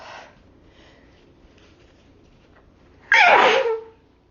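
A woman's single loud sneeze bursts out after a few seconds of near silence, preceded by a faint breath at the start.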